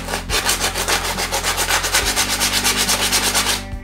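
Rhythmic back-and-forth rasping of 100-grit sandpaper on a wooden fishing float, steady strokes about six per second, close and continuous with no talking.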